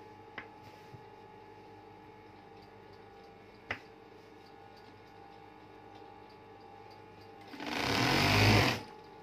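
A Singer sewing machine runs an overlock seam on a bedsheet in one loud, steady burst near the end, after a quiet stretch with a few faint mechanical clicks.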